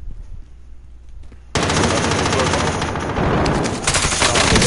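Rapid automatic gunfire in Warzone, bursting in loudly after a quiet stretch and continuing as a dense, sustained barrage of close shots with a few brief dips.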